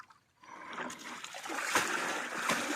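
A fishing net is washed in water with soft splashes and trickling drips, faint and close, beginning quietly and growing into repeated sloshing.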